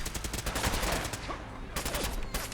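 Rapid gunfire in the video game Fallout 4, dense bursts of shots in quick succession with a brief lull in the middle, loud and close.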